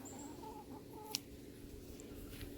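Faint clucking from chickens nearby, soft repeated low calls over a quiet background, with one sharp click partway through.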